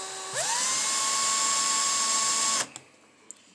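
A high-pitched drill whines up to speed and runs steadily for about two seconds, then stops abruptly, followed by a couple of faint clicks, while setting up front hydraulics on a 1967 Impala.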